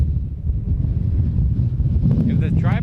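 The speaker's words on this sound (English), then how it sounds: "It's extreme. It's windy. I'm about to blow over." Strong wind buffets the microphone at a speedway, a loud continuous low rumble and roar with gusty swells throughout.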